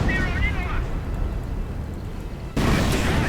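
Creeping artillery barrage in a real-time strategy war game slams into an Ostwind anti-aircraft tank, dense rumbling explosions with a sharp loud burst near the end, under continuous commentary.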